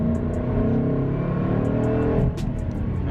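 A Ford Mustang GT/CS accelerates hard nearby, its V8 engine note climbing steadily and loudly before abruptly dropping at a gear change and continuing at a lower pitch, with faint clicks above the exhaust.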